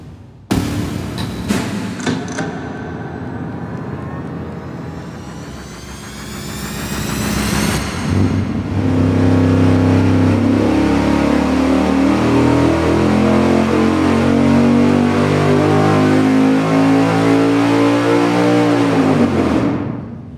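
An engine with a 4.7 swap makes a baseline dyno pull, starting with a few sharp revs, then building into a loud, sustained high-rpm roar that sweeps up steadily and cuts off at the end.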